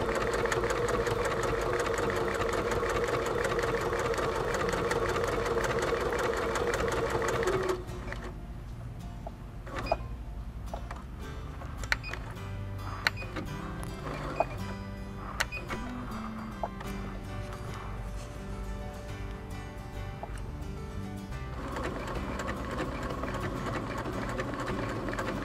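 A Baby Lock Quest Plus quilting machine runs steadily while stitching appliqué, a continuous mechanical hum that drops at one point as the speed changes, with a few faint clicks as the fabric is pivoted, and no talking.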